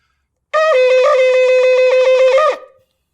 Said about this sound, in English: The teruah will sound like 9 piercing sounds